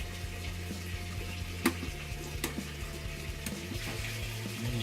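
Warm water runs steadily into the tub of a Kenmore washing machine, a continuous rushing hiss under a low mechanical hum, with occasional faint clicks.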